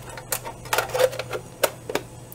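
Film paper advancing inside a Zeiss Box Tengor half-frame 645 camera as it is wound: a series of dry clicks and short ratcheting bursts at uneven intervals, close and fairly quiet, with no talking.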